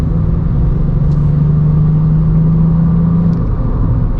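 A Volkswagen up! GTI pulling uphill under load, a steady loud low engine drone and road rumble from inside the cabin, holding a constant pitch with no talk.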